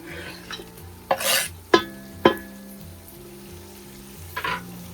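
Close-up sizzling of tomatoes frying in a pan with a few sharp stirring scrapes and clinks of a utensil against metal.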